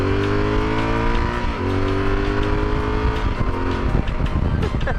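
A bike engine accelerates away from a green light with steady, loud, close revving that climbs and shifts in pitch over a few seconds.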